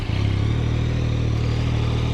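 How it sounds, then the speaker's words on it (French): A Yamaha MT-09 SP's three-cylinder engine, already warm from riding, fires up and settles into a steady, throbbing idle, close and loud with a low pulsing hum and mechanical clatter. "Je vais démarrer la moto, histoire que vous entendiez un petit peu."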